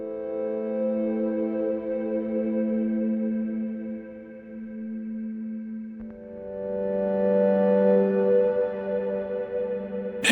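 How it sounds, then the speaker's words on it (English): A sustained Korg Minilogue synth pad holds layered tones, dipping midway before a new chord swells in with slow sweeping movement, smooth and uninterrupted. "the foundation of this cue is built upon the Korg Minilogue pad that I made"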